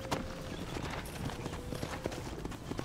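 Horse hooves clip-clop steadily while a rider travels in the Red Dead Redemption video game, a continuous rhythmic trot with a faint whinny, set against game ambience.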